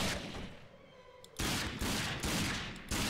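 Gunfire in Fallout 4: a quieter stretch gives way to three loud, close bursts of shots, each a sharp broadband blast with a trailing tail, spaced about every three-quarter second.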